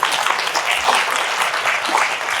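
A live audience gives a short, loud burst of applause, a brisk crowd clapping that lasts a couple of seconds.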